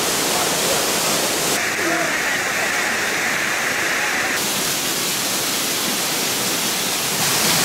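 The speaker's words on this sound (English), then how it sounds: "Here I am at the Emerald Pool underneath the waterfall." A waterfall at the Emerald Pool pours down in the rain, heard from a cave just behind the falls as a steady, loud, broadband rush with no break.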